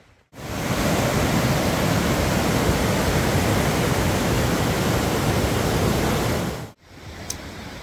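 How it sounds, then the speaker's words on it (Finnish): Calypso Cascades waterfall roars as a loud, dense, continuous rush of falling water that swells in after a brief quiet start and cuts out near the end, then returns more faintly. "tuossa takana pauhaa nyt ensimmäinen tällainen varsinainen kohde, eli tää on Calypso Cascades, tällainen vesiputouksen kaltainen mesta"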